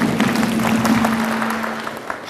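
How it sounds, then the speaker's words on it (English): An audience claps together during a coaching session at the Cowes Yacht Haven Event Centre, a dense, steady patter of many hands filling the room for a couple of seconds, with a low steady hum underneath. "Clap."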